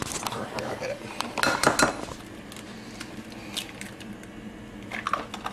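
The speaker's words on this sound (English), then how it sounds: "Can you crack that egg in there for me?" An egg is cracked into a bowl of Greek keftedes meatball mixture with onion, bringing a few sharp clinks and a soft squish at close range. Kitchen clatter and voices surround the cracking.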